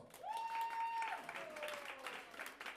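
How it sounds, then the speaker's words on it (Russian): A crowd applauds steadily at a moderate distance at a live concert while a sustained held musical tone sounds over the clapping. "Ваши аплодисменты."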